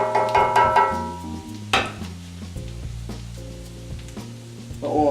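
Steak Diane is flambéed with cognac in a pan, giving a loud, close frying sizzle with crackling bursts at the start and a sudden whooshing flare, then a steadier hiss.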